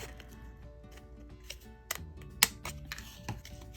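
Scissors cut paper for a mini tote, a handful of crisp, quiet snips and clicks close by, spaced irregularly, with no speech.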